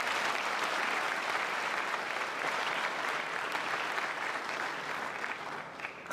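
Steady, full applause from a seated crowd at a University of Johannesburg inauguration greets the chair, holding strong throughout and thinning a little in the final moment.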